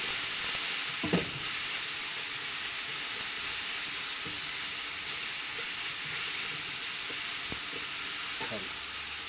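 Vallarai (Centella) greens being sautéed in a pan for chutney make a continuous close hiss and sizzle, broken by occasional utensil scrapes and taps, with no one talking.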